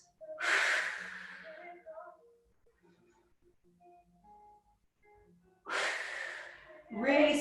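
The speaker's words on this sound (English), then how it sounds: "Nice deep breath." Heavy, deliberate breaths during a floor exercise workout, two long loud exhale bursts separated by a quiet stretch, with an instructor's voice coming in near the end.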